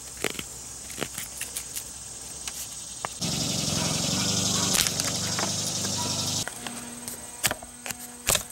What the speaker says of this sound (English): Going to cut into some wood that I have laying around.